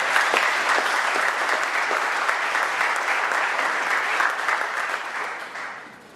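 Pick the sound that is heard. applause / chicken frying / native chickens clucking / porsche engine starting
applause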